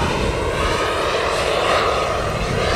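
An RC turbine jet flies overhead with its throttle cut for descent, a loud, steady, broadband engine roar and rush of air that holds throughout with no pauses.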